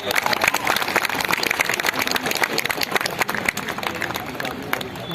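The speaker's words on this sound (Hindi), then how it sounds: "तालियां तालियां थोड़ा तालियां।" Sustained crowd applause at a ramp walk event, with dense clapping and cheering noise filling the whole stretch, loud and steady, with murmuring voices mixed in.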